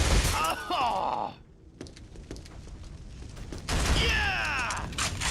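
Video game gunfire on a PS3 comes in two loud bursts of rapid shots with ricochet-like whines and a quieter gap between them, mixed with voices.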